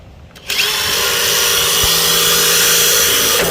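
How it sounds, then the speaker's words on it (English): A power drill whirs steadily after a brief quiet start, a loud continuous high-pitched motor whine pre-drilling holes for Trex T20 screws in deck stair boards without pause. "pre-drill your Trex T20 color match screws"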